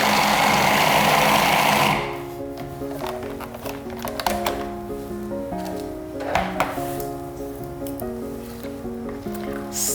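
A food processor roars at full power while blending pumpkin tofu cheesecake batter, then cuts off abruptly. Afterward a steady, pulsing tonal pattern carries on, broken by a few short knocks.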